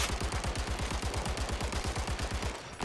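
Light machine gun in Zero Caliber firing one sustained automatic burst, a steady rapid rhythm of loud, close shots that stops abruptly near the end.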